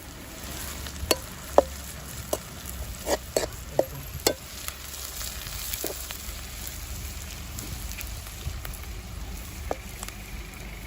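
Chopped onions and curry leaves frying in a pan for a Kerala fish dish, a soft steady sizzle under sharp clicks and taps of a spoon scraping the pan, with no talk.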